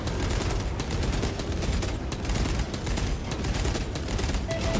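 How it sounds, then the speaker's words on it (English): Rapid burst gunfire in the video game Warhammer 40,000: Space Marine 2, a dense rattling stream of loud, close shots with no talk. "Controlled burst fire, there we go."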